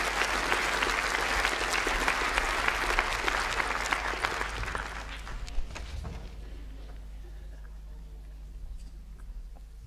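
Applause from a graduation ceremony audience, a dense burst of clapping that fades out after about five seconds, leaving a quiet hall with faint hum.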